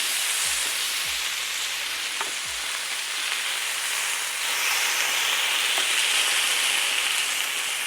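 Chicken pieces coated in avocado oil sear in a hot pan, giving a steady close broadband sizzle throughout, with a few soft thumps and clicks early on as pieces are flipped and set down.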